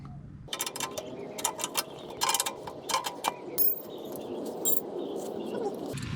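A wrench works loose the old brake hose from its metal tubing on a car, giving a close run of light metallic clicks and rattles over a steady low background.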